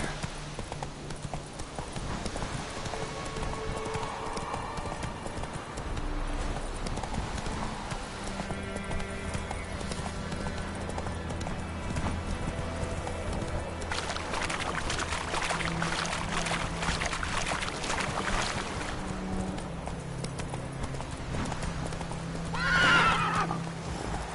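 A horse in The Witcher 3 video game gallops with steady clip-clop hoofbeats and lets out loud neighs and whinnies, heard close up over a continuous game ambience and music bed.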